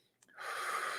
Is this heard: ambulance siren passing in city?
no